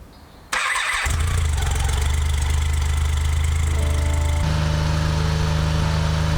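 A BMW K75 motorcycle engine cranks briefly, fires and catches, then settles into a steady, close, loud idle with a slight shift in pitch partway through; no talking.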